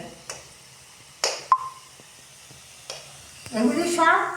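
Food sizzles and is stirred in a pan, with several brief scraping strokes and a short metallic ping, followed by a louder burst of frying near the end.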